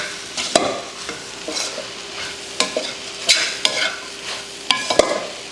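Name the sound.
stirring chopped parotta with egg in a hot pan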